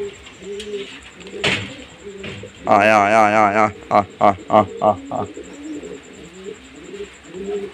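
Pigeons coo softly at home, low throaty calls running under a person who calls out to them repeatedly in loud, rhythmic bursts.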